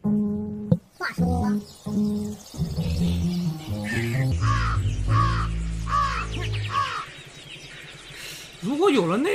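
Crows cawing in the video game Ant Inventor, a run of harsh repeated caws and croaking calls layered with tonal game sounds and low rumbling, fairly loud and close, with a brief rising call near the end.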